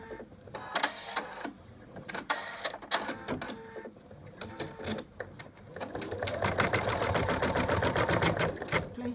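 An embroidery machine stitching the ear placement line for an in-the-hoop Digger the Dog design: first scattered clicks and handling knocks, then a rapid, steady, close mechanical stitching chatter that keeps running.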